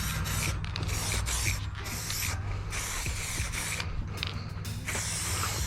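A $15 purple Harbor Freight spray gun lays a light coat over the edges of plastic and fiberglass pieces, giving a soft continuous hiss broken by short bursts as the trigger is pulled and released.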